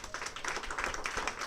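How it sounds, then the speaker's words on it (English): Audience applause thanking a panel at the close of an evening event, a dense, steady wash of many hands clapping at once, moderately loud and continuous throughout. "Big round of applause."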